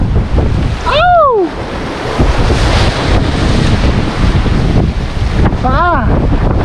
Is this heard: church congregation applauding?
no